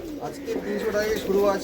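Pigeons coo softly close by in a pigeon loft while someone talks over them.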